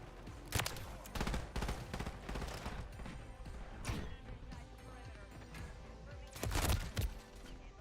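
Gunfire in a Call of Duty match, with several loud bursts of rapid shots separated by quieter stretches, set against a busy in-game soundscape.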